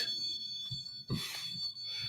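A high-pitched electronic alarm beeps steadily inside an old mansion, a sustained shrill tone that keeps sounding with brief fluctuations, no talking over it.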